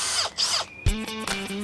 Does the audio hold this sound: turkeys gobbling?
no